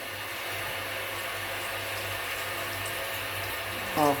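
Steady broadband rush of water running from a kitchen tap as a sponge is rinsed in the sink, continuous and fairly close, with a brief louder splash near the end.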